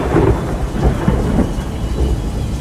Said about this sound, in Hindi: उस रात गांव में तेज बारिश होने लगी।